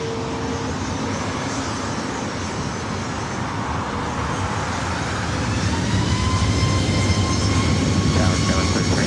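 A plane taking off at LAX makes a loud, continuous engine roar that swells slightly toward the end, heard up close and alone without talk.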